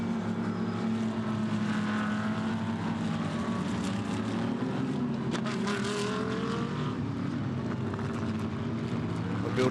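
GT race cars roar continuously as they accelerate out of corners at Hampton Downs during a GT World Challenge Australia race. Layered engine notes swell and shift against a dense, steady track din with faint commentary underneath.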